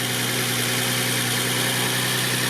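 A stone-cold car engine runs at a fast, high idle, a steady close hum with a constant tone and no one speaking.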